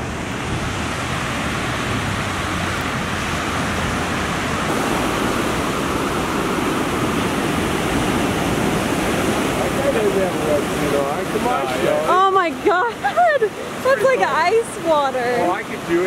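Ocean waves washing onto a beach in a continuous, fairly loud roar of surf, with people talking over it toward the end.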